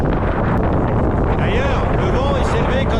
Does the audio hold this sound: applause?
no